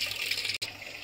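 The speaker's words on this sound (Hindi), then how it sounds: "अभी इसमें पानी भर रहा है, जब तक अपन इसको देख लेते, पूरा पानी इसमें भरा जा रहा है।" Water pouring into a washing machine tub during a tub-cleaning cycle, a brief steady gushing hiss with a sharp split-second dropout midway.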